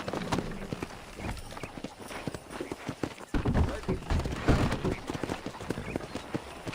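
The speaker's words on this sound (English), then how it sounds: "I picked out a fine horse for you." Horse hooves clip-clop steadily at a walking pace in the Western video game Red Dead Redemption, close and moderately loud, with occasional thumps.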